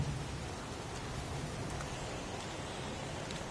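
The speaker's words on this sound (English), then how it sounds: "It's pouring rain." Pouring rain in the video game Heavy Rain, a steady broadband hiss of falling water, faint and unbroken from start to end.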